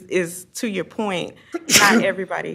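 A sneeze from someone at a government committee meeting breaks in briefly around the middle, with continuous talk from a participant before and after it.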